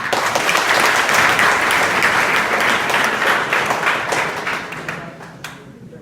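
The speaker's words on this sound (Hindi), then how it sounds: "ताली तो यही सबके लिए।" Students at a school assembly in Bhaduli, Azamgarh, Uttar Pradesh break into loud, close applause, a thick continuous patter of many hands that carries on for several seconds before tapering off at the end.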